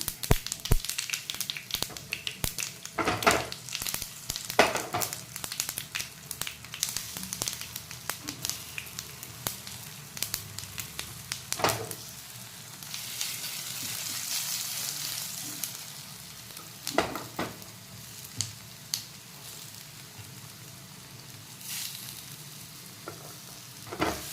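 Farali patra, taro leaf rolls with cumin and sesame, frying in a pan with a continuous close sizzle broken by frequent sharp crackles and pops, no voices.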